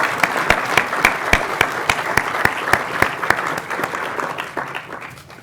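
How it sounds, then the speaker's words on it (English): A conference audience at a food systems event gives itself a round of applause: loud, close clapping with distinct sharp claps standing out in a regular rhythm over a crowd patter that gradually tapers off. "Let's give ourselves a round of applause."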